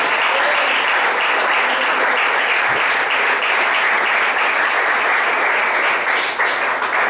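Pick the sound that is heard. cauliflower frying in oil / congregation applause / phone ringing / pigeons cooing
congregation applause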